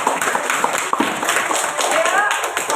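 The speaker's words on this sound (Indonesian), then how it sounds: "Kasih tepuk tangan." A class of pupils claps hands together in a classroom, a brisk uneven patter of many hands, steady throughout with voices mixed in.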